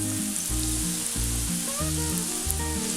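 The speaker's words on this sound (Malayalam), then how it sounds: "ഇനി ഇതിലേക്ക് നമ്മൾ കോട്ട് ചെയ്ത് വെച്ചിരിക്കുന്ന വെണ്ടയ്ക്ക ഇട്ട് കൊടുക്കാം." Coated okra pieces frying in hot oil give a steady, close sizzling hiss throughout, with stepped tonal background music playing underneath.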